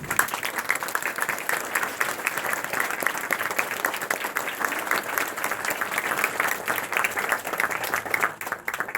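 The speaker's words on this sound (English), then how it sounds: "I would love for y'all to give all of the nations a round of applause" A crowd at an outdoor flag ceremony for all three Cherokee nations at Red Clay State Park claps in sustained, even applause that carries on for the full stretch with no voices.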